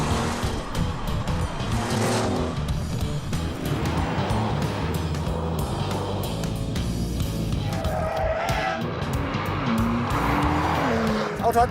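A Porsche 992 Turbo S drifts in a long slide, its engine roaring and tires squealing continuously and loud, with pitch shifting as the throttle changes.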